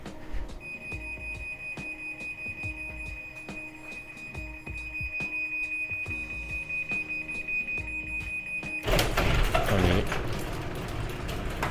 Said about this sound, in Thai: ตอนนี้มันจะเป็นสัญญาณเตือนนะครับว่าประตูมันกำลังจะปิด